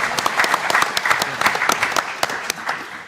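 Brief round of audience applause at a marketing technology conference session, a few seconds of steady clapping from a modest crowd with individual claps standing out near the front.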